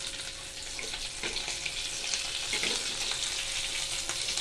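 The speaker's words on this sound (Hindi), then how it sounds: "इस तरह से आप लोग आलू बोंडा आलू भजिया फ्राई कर लेगा।" Potato bhajiya, also called aloo bonda, frying in hot oil, a steady close hiss and crackle of bubbling batter that runs on alone without pause, with a few faint clinks from stirring.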